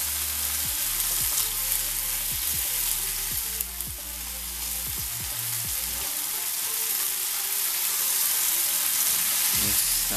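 Tomatoes for scrambled eggs fry steadily in a pan, a continuous close sizzle with spatula scrapes and soft clicks in the first few seconds, holding even throughout with no talk.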